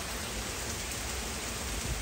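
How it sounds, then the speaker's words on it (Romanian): Heavy rain pours steadily during a storm in Punta Cana. It is a constant, dense hiss of water hitting surfaces, with only a hint of distant thunder and no voices. "Dar plouă destul de tare."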